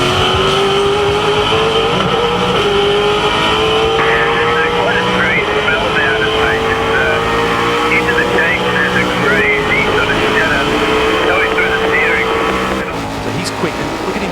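An HRT Holden V8 Supercar driven by James Courtney around Bathurst in Forza Motorsport 6, heard from on board. The loud engine drones steadily and its pitch slowly climbs through a gear, with commentators talking over it.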